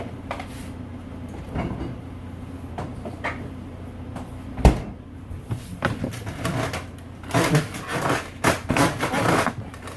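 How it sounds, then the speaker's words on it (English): A rocking chair creaks and knocks in irregular bursts, wooden clunks and squeaks growing busier toward the end, close by in a quiet room. "I know it's the rocker. It always makes a lot of noise."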